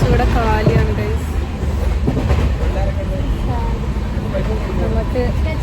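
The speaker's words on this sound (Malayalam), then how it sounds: "നമ്മളെപ്പോൾ ട്രെയിനിലാണുള്ളത്." Inside a moving train, a steady low rumble and rattle of the carriage runs throughout, with faint clickety-clack and people talking nearby.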